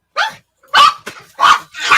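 A dog barks loudly and close by, four or five sharp barks in uneven bursts with short gaps between them.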